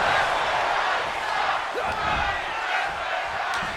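Wrestling arena crowd in the WWE 2K24 video game gives a mixed reaction and chants, a dense, steady roar of many voices that fills the whole stretch without a break.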